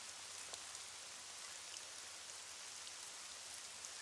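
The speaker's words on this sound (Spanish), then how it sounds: "Si ignoramos la lluvia, tal vez se marche antes." Steady rain falls with a soft, even hiss and occasional patters of drops, faint and continuous throughout.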